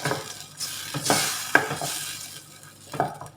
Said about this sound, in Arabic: وغادي نضيف ليها واحد شويه ديال الماء، شي بزاف شويه بحال هكا. وغادي نخلط